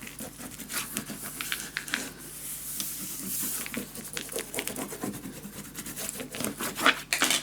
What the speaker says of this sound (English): Burnish it down, let this dry, but burnish it down with these grooves at least.